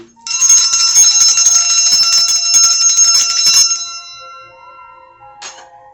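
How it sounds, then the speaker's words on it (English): A bright metallic bell struck and left ringing, its tone slowly fading away, with a faint second chime near the end. "I want to just ring the bell really quickly"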